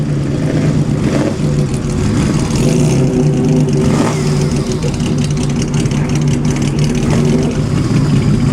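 Long-wheelbase Cunningham-modified D-type Jaguar engine running at the Pebble Beach Concours, a loud steady throb with slight rises in revs, crowd noise and a voice faintly mixed in under the motor.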